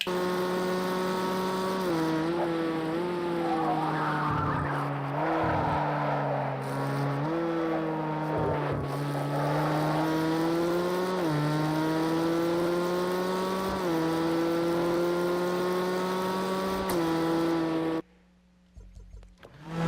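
A car at full throttle through a chicane at Le Mans, its engine note loud and steady with harmonics sweeping up and down through gear changes for most of the run before cutting away abruptly near the end.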